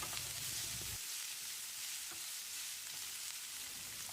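Steady sizzling of finely chopped chili and ginger being stir-fried in a hot pan, with a few scraping stirs, no talking.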